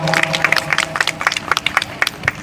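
A small audience at an outdoor cultural program in Khajuraho claps for performers of a Ramcharit event, with a loose patter of distinct nearby hand claps over a low steady background hum.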